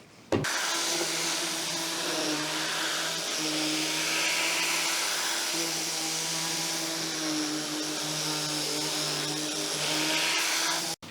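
An Arbortech Sphero Plane hollows a hard oak bowl, giving a steady, loud whining grind that runs almost unbroken for about ten seconds before it cuts off.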